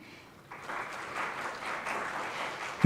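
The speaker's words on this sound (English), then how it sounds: "A huge round of applause for him." Audience applause at a university CSR conclave begins after a near-silent half second, then builds into a moderate, even clapping from a seated crowd that continues to the end, with a brief louder thump at the close.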